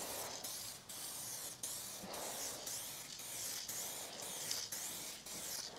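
An aerosol can sprays clear coat onto a car headlight in a series of short, close hissing passes, each separated by a brief pause. No speech.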